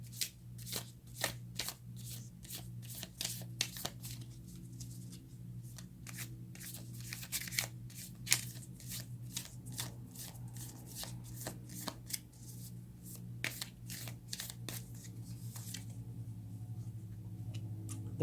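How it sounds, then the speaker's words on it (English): Tarot cards are shuffled in a fast riffle of sharp flicks and taps, a steady run of crisp clicks over a low, quiet hum. "Okay, let's get a few more."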